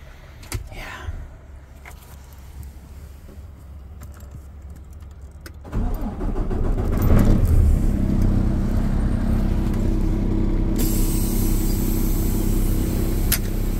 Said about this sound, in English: so I can start the truck.